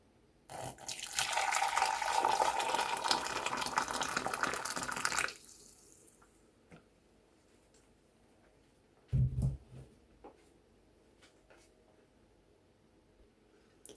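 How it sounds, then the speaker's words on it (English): Hot water pours onto a cinnamon stick in a cup for tea, a steady splashing rush for about five seconds that stops abruptly, followed by quiet and a short dull clunk, with no talk. "Firstly, I'm going to put in my cinnamon stick and then add some hot water."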